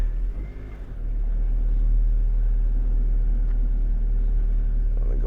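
A 2007 Toyota Corolla with a freshly repaired stuck handbrake rolls forward, giving a steady low engine and road rumble that swells after the first second and holds evenly, close by and without talk.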